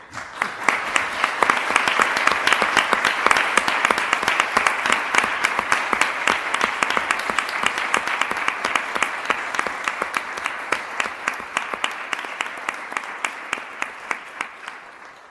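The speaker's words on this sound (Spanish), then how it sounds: "Así que un aplauso para todos." Audience applause following an academic lecture on anamorphosis art and science, a dense sustained clapping that swells early and then gradually thins out over about fifteen seconds, with faint talk underneath.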